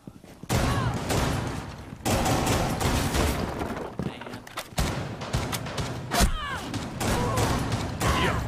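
Rainbow Six Siege gameplay fills with loud, dense gunfire: rapid automatic bursts and single shots crackling almost continuously, with brief gaps, metallic clinks and impacts, and players talking over the shooting.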